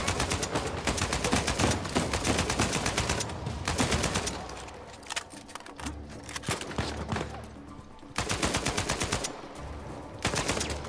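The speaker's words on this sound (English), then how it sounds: "I'm trying to shoot my brother too" Uncharted 4 gunfire, rapid automatic bursts in several long volleys with short gaps and single shots between, loud and close.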